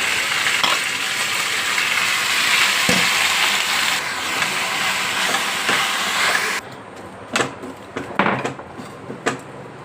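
Washed gongura leaves fry in a pan with a loud, steady sizzle that drops away partway through, followed by a few sharp stirring clinks and scrapes.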